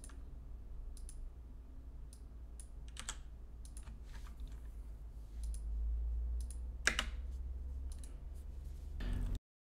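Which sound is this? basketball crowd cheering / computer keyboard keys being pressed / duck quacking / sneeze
computer keyboard keys being pressed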